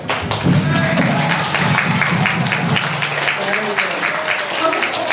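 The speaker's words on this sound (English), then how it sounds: "Give yourselves a clap." Children at a school Halloween event clap together in a brisk, fairly close burst with some thumps and taps mixed in, steady for a few seconds.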